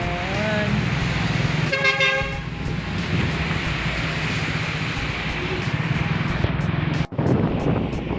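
Busy road traffic rumbles steadily while car horns toot several times, a quick burst of honks standing out near the start.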